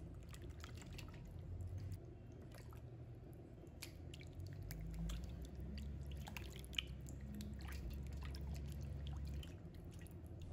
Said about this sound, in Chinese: 然后再倒入清水，把它清洗干净，把鸭肉的表皮的面粉和盐清洗干净。